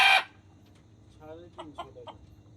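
Deshi and Fayoumi chickens on a farm give a few short, fairly faint clucks after a brief loud burst of noise at the start.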